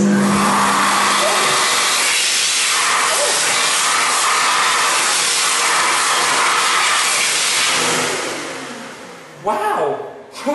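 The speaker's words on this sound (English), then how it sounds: "ASI hand dryer" An ASI automatic hand dryer blows a loud, steady roaring hiss of air for about eight seconds close by, then cuts out and fades, leaving brief voices at the end.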